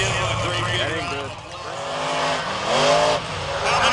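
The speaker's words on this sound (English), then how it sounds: "Gunslinger frying the rear end of that truck" Gunslinger monster truck spinning its rear tires at a beach nationals event in Wildwood, NJ, engine roaring and tires squealing with rising and falling pitch, loud and close, under an announcer's amplified voice.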